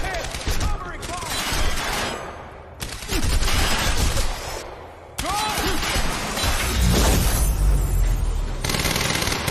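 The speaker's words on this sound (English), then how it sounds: "Covering fire." Covering gunfire in Quantum Break, with sustained rapid volleys and sharp cracks sounding loud and close through the whole stretch, interrupted by brief lulls, amid battle noise and some voices.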